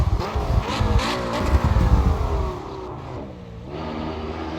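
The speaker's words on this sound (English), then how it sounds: "I immediately took it for a spin. in the KTM X-Bow GT2" Race-car engine of a KTM X-Bow GT2 in Assetto Corsa EVO on the Kyalami circuit, a mid-mounted Audi five-cylinder turbo, revving loud and close with rising and falling pitch through gear changes, easing off near the end.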